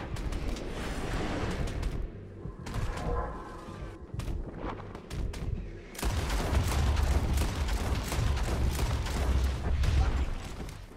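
Gunfire rattles in Red Dead Redemption 2: scattered sharp shots crack early, then a dense sustained volley of rapid rifle and pistol fire rolls on at moderate distance, with brief talk mixed in.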